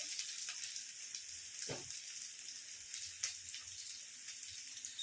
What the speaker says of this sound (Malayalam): ഇങ്ങനെ തന്നെ ഫ്രൈ ചെയ്ത് ചെയ്തെടുക്കുക നേരത്തെ ഞാൻ ഇൻഡാലിയത്തിലായിരുന്നു ചെയ്തെടുത്തുകൊണ്ടിരുന്നത് ഇപ്പം ഞാൻ ഫ്ലെയിം മീഡിയത്തിലേക്ക് മാറ്റിയിരിക്കുകയാണ്